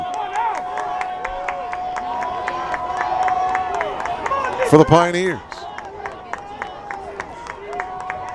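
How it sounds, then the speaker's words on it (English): Blue Jay home crowd making noise at an Elmhurst University football game against Carroll University on fourth down, a steady rumble of distant cheering with a brief louder surge, under a commentator's voice. "Blue Jay crowd making some noise here"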